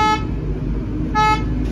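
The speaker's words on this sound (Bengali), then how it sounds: "কি করছো তুমি? হর্ন বাজাচ্ছ?" Two short car horn toots sound close by, about a second apart, over steady traffic and engine noise.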